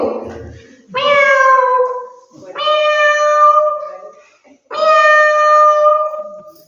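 A person imitates a cat meowing, giving three loud, close, drawn-out meows evenly spaced over several seconds, each one falling in pitch as it ends.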